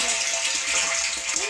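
Water pours steadily into a water tank, a continuous near rushing gush with no breaks over a short stretch.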